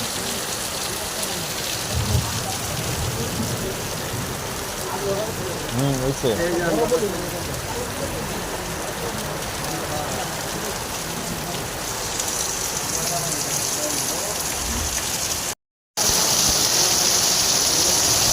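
Steady heavy rain falling outdoors, a constant dense hiss throughout, with someone talking over it and a brief dropout near the end.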